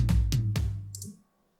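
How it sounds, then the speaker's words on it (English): Cashmere-tone drum fill in a progressive house track: three booming electronic hits with a deep tonal body, a faint bright flick, then an abrupt cut to silence. "I add a fill by using cashmere tone."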